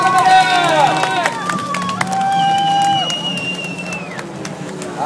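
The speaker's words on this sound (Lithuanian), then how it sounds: "Ir jūs aplodismentai 5 starto numerį" An audience applauds start number 5 at a water motorcycle race in Birštonas, with scattered claps and crowd noise beneath the rising and falling whine of jet-ski engines.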